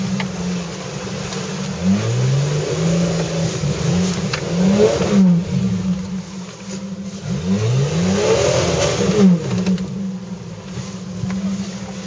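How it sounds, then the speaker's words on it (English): A Jeep engine at Devils Pit revs hard against the rev limiter, a loud close roar that surges and bounces in repeated pulses across the whole stretch, with no voices. "Here it off the rev limiter."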